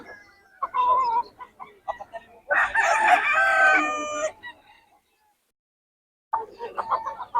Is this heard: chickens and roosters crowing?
yes